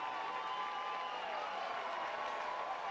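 Baseball crowd applauding a grand slam at a 57's vs Gulls game, a steady wash of clapping and distant cheering from a large stadium audience, sustained at even loudness with no talk.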